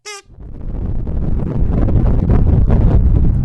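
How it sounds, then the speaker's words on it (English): Wind rushes and whistles over the roof of a moving car, a steady broadband roar that builds up after a brief tonal note at the very start and then holds constant, close and loud, with no talk. "That is the sound of the wind whistling over the top of the car"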